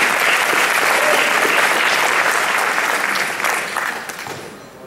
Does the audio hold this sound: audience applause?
yes